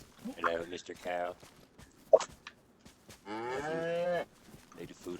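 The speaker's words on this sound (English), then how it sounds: "Hello, Mr. Cow." A cow moos in several long, loud, drawn-out calls, one near the start and a longer one later, with a voice speaking between them and a sharp knock in the middle.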